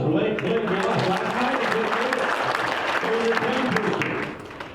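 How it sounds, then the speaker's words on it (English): Applause from an audience at an agricultural outlook event, steady dense clapping for several seconds that fades near the end, with a voice speaking over it. "Round of applause for Blake"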